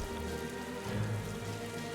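Rain falls in the Limbus Company video game as a steady, dense hiss of droplets with a low rumbling undertone, continuous and fairly close.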